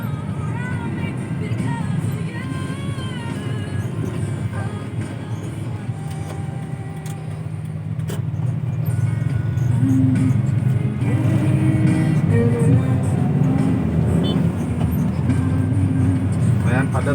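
Heavy road traffic crawling through a severe jam on a trip through Baros, Cisaat and Bojong Cilaksana, a steady loud engine and tyre rumble with vehicles revving, while people talk over it throughout.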